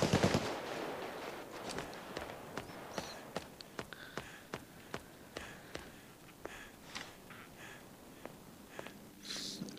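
Gunfire in the video game Payday 2: a string of sharp single shots, mostly evenly spaced, pops steadily over a soft background bed after a louder opening burst, with no talking.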